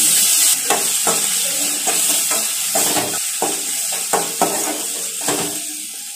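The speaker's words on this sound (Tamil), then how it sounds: "வெங்காயம் நல்லா வதங்கிடுச்சுங்க." Onions sautéing in a pan for a Tamil amaranth stem and carrot stir-fry, a steady close sizzle broken by repeated scraping stir strokes of a spoon against the pan, with no talking.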